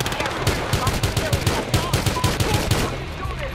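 Rapid automatic gunfire in the video game Battlefield Hardline, a steady stream of sharp, evenly spaced shots ringing out close and loud over a dense battle din, then easing off near the end.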